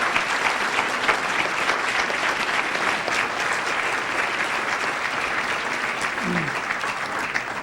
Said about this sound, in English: Let's a round of applause for the volunteers who help us make our work possible